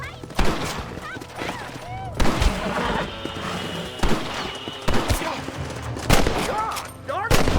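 Repeated gunshots and volleys of fire in the Western video game Red Dead Redemption, loud bursts recurring every second or two over game music, with voices speaking in between.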